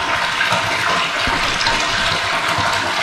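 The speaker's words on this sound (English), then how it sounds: "the water is getting pumped straight out of the ground directly right now" A pool in Thailand fills with water pumped straight from the ground, a loud, steady gushing rush that runs unbroken, close up, with no talk.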